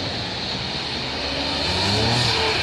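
A Porsche accelerating in the street, its engine note building steadily louder and rising toward the end as it approaches, with no voices over it.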